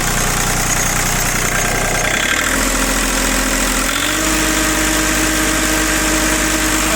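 Iseki TU185 Japanese compact tractor diesel engine running at a steady idle, loud and close, with a shift in the engine note partway through.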